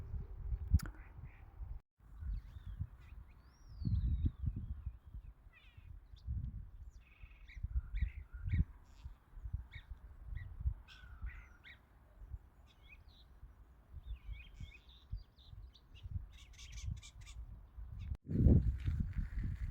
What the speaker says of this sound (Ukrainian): знімала дроздів, а виявилося, що то шпаки